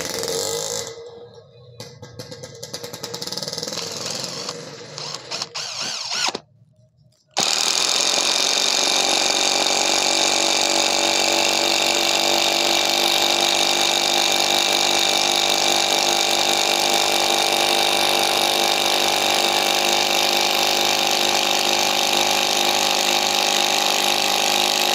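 A cordless 12V DCA ADPL02-8 impact driver with a PH3 bit drives a 10 cm screw, its loud rapid hammering rattle running continuously and close up for most of the stretch after a brief pause, with no talking.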